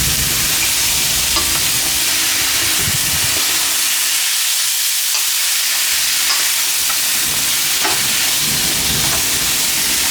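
Lamb pieces stir-fried in a hot pan for a Cantonese lamb curry, giving a steady loud sizzle with scraping stir strokes and a brief dip in intensity midway, no voices.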